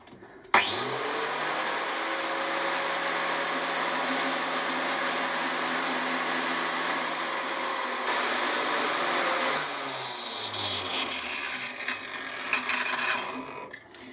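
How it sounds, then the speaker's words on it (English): A power tool with a flat sanding disc spins up sharply and holds a steady, loud, close whine while grinding the edge of a Harley Davidson exhaust baffle, with the pitch wavering under load before spinning down. "take a bit of time on the flat disc and get that rounded off"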